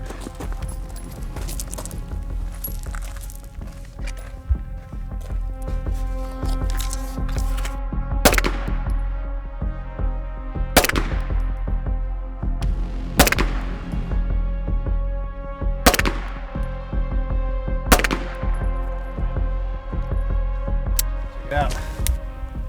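A Stealth Arms 1911 Platypus pistol firing Winchester ammunition at a range, with sharp, loud single shots spaced a few seconds apart over steady background noise, five or six reports in all.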